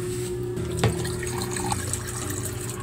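Water is poured into a cooking pot to boil paragis herb, a steady gentle trickle and splash, close but fairly soft, with no one speaking.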